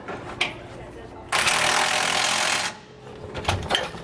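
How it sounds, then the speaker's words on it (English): A power tool drives a socket to tighten bolts while an anti-sway bar is fitted to a 2020 Thor Winds motorhome. One loud buzzing burst lasts about a second and a half, framed by quieter clicks and handling noises. "now we're just going to go back and tighten those down with the same size socket"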